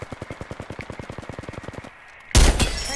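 Rapid automatic gunfire in the Apex Legends battle royale game, a steady stream of about twenty close, evenly spaced shots, then a short lull before a louder burst of heavy impacts or blasts.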